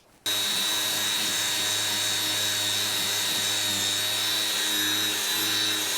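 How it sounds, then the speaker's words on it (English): A wire wheel power tool starts up suddenly, cleaning a rusty screw assembly, then whines steadily at a high pitch. The grinding hum stays loud and close for several seconds. "I'm just going to clean up this whole screw assembly with the wire wheel"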